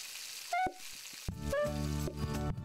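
Food sizzles on a stove in the cooking game PlateUp!, a steady frying hiss with short tonal game chimes and beeps layered over it, no talking.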